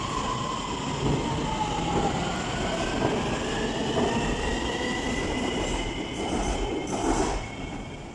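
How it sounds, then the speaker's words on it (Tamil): An electric train pulls away from a station in Kuala Lumpur, its motors whining in a slowly rising tone over steady rolling rumble and faint wheel squeal, continuous and fairly close with no talk. "ட்ரெயின் கிளம்ப போகுது."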